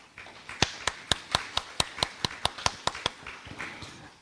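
Clapping at the close of a spiritist lecture, about a dozen crisp evenly spaced claps in a steady rhythm, near and fairly loud, with no talk over them.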